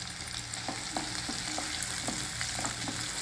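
Garlic cloves and dry red chillies frying in oil, a soft steady sizzle with light regular stirring taps, quiet and close with no voices.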